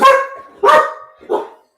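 A pet dog barks three times close by, the last bark softer and shorter, with no talking underneath.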